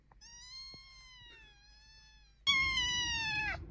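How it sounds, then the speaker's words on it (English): A cat gives a long, faint, high meow, then a second, much louder and closer drawn-out meow over a rough background, with nobody talking during it. "did you hear a cat?"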